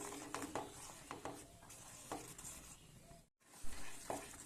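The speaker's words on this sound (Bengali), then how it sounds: "সুজিটা দিয়ে কিছু সময় যে রান্নাটা করে নিতে হবে।" Semolina being stirred in a pan while cooking semolina halwa, a steady scraping and soft sizzle with irregular stirring strokes, close and low in level, briefly cut off near the end.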